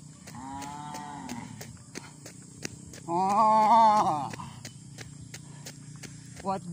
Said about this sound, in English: What does the cow say?